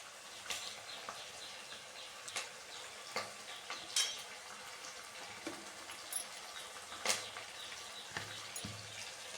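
Shallots, garlic and curry leaves sauté in a pan for a Trichy-style kara kuzhambu, with a soft, steady sizzle broken by scattered scrapes and taps of a spoon stirring against the pan.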